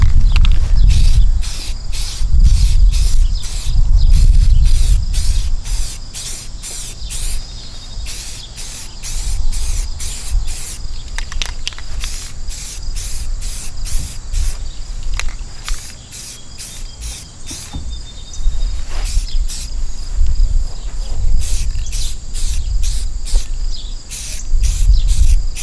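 Rust-Oleum trim and bumper aerosol paint can hissing in bursts as a third coat goes onto car trim, close and fairly loud, repeated short sprays with a steady rhythm, no talking.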